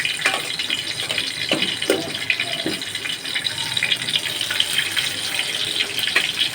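Eggplant pieces hiss and sizzle in hot oil in a pan, a steady bright crackle running close and unbroken throughout with no one talking.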